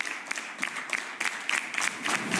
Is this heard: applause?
yes